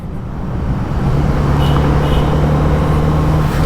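Congested toll-road traffic surrounds a Kawasaki Z900RS motorcycle filtering between vehicles at night, a dense, steady rumble of engines and road noise that builds slightly, then holds loud and close.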